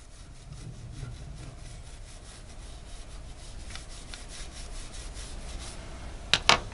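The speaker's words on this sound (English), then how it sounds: "Take our brass brush and scrub the face of the bolt thoroughly." A brass brush scrubs the face of a rifle bolt in quick, repeated back-and-forth strokes, a faint, rhythmic rasping close by with a couple of sharp clicks at the end.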